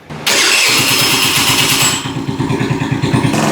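A small engine on an old thrift-store scooter cranks and catches, then settles into a loud, close, slightly uneven idle that pulses rhythmically as if running a little low.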